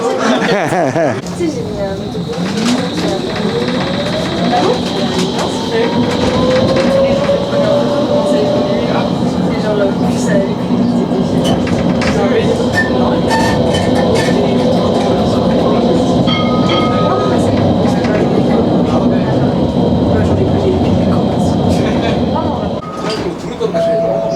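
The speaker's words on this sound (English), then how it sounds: "So there goes our train." A train rumbles past with clattering wheels and squealing, screeching rails, loud and close, in Nantes, France, while people chatter in the background.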